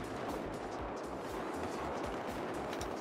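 Heavy bursts of 7.62 rifle fire from an RPK in Battlefield 4 on Xbox One fill a chaotic gunfight, rapid overlapping shots and low thuds rolling continuously at close range.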